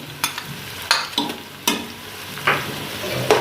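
A soft sizzle of garlic paste frying in a pan, with scattered stirring scrapes and clicks at close range.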